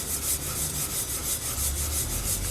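Flaxseeds are stirred and pushed around a hot pan, giving a soft continuous dry rasping and rubbing sound, close and fairly quiet, with no voices.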